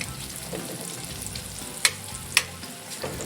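Shrimp sizzle in butter in a pan for blackened shrimp, a steady close frying hiss broken by two sharp utensil clicks, with no talking.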